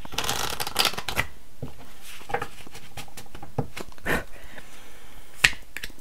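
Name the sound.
tarot cards being shuffled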